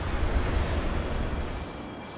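A train rumbles past in Destiny 2, a low steady rolling drone with a faint high metallic whine that fades slightly toward the end, no voices.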